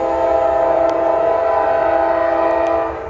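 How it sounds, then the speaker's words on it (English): A Norfolk Southern intermodal freight train led by a Dash 9-40CW locomotive roars past close by, its horn blaring loud and sustained over the rumble before easing off at the end. "Here comes another train."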